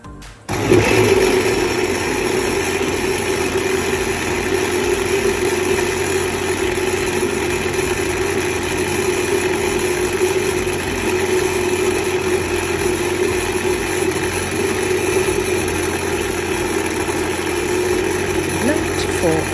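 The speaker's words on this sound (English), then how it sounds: "Blend for about 2 to 3 minutes." A big blender runs steadily as it blends coconut with water, a constant, fairly loud motor drone with a mid-pitched whine that holds almost unchanged from start to finish.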